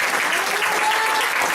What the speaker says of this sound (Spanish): ¿Cuánto le dan un fuerte aplauso al Rey de Reyes y al Señor de Señor?